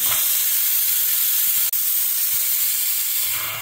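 Pressure cooker hissing hard as it releases steam while cooking elephant foot yam with salt and water, a loud continuous jet of steam with one brief break, close and alone.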